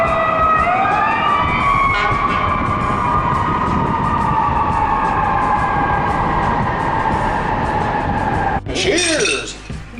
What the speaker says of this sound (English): There is a constant symphony of car horns and fire engine or police sirens.